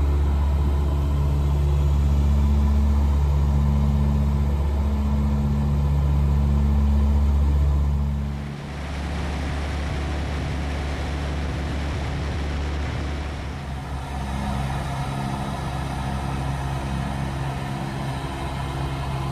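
Twin piston engines of a Tecnam P2006T light aircraft in climb power, a steady loud droning rumble heard from inside the cabin, dipping briefly midway before resuming its constant tone.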